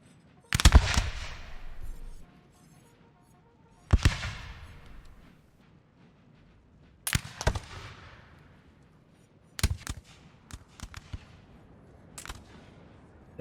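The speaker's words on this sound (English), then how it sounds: "Oh, they already are shooting." Musket volleys crackle in a Napoleonic Total War multiplayer battle, sharp bursts of gunfire at uneven intervals with long decaying tails, moderately loud and without talk.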